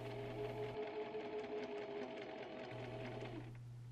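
A sewing machine stitching a garment for a Chanel-inspired suit, a fast, even mechanical whir close by that runs in two bursts with a short pause between, then stops.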